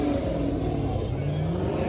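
A car engine revs loud and close at a Mopar meet, a deep throaty roar that rises and falls over two seconds, with no voices over it.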